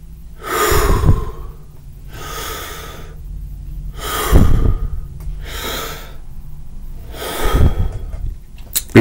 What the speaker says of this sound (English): Let's take three deep breaths.